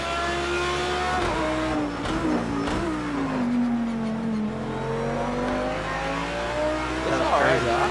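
In a racing video game at Long Beach, an Audi race car's engine howls loudly, dipping and climbing in pitch through braking and acceleration, with a player's voice talking over it.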